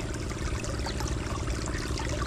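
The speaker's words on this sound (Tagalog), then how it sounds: "Kasi lakas nung andar ng makina natin yan." Water gushing steadily from the outlet of an engine-driven pump running hard at a harvest site, a dense continuous rush with the motor's low rhythmic thrum underneath, close and unbroken.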